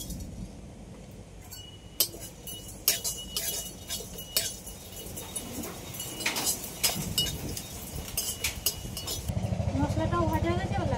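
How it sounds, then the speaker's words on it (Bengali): Cumin seeds and whole black peppercorns dry-roasting in a pan, with metallic clinks and scrapes of stirring and a rising sizzle toward the end. The sound is close, and a voice is faintly present at times. "এবার কিছুটা জিরে আর গোটা গোলমরিচ নিয়েছি, এটাও ভেজে নেব।"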